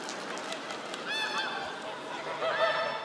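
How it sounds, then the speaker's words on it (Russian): Geese honk over a steady rural background, their calls coming in a few overlapping bursts at moderate distance, with a brief voice in the mix. "Твои гуси гогочут"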